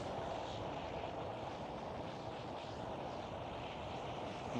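A KLM City Hopper Embraer E175 airliner taxiing at Amsterdam Schiphol, heard as a steady, fairly faint jet engine rumble and whine that holds level throughout with no talk over it.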